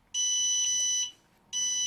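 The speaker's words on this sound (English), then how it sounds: "let me just disconnect here to stop the beeping" Two loud, shrill electronic beeps from a Simtoo Dragonfly Pro drone during gimbal calibration: a long steady tone, a brief silence, then a second beep starting up.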